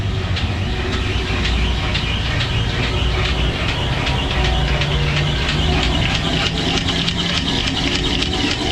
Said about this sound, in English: The fans are starting.